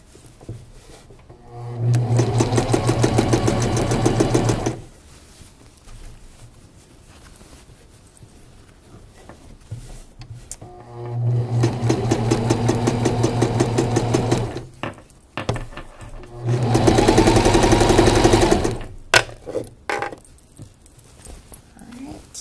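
A sewing machine stitches a garment crotch seam in three bursts of rapid, close whirring, separated by pauses where the fabric is handled and quiet sounds are heard.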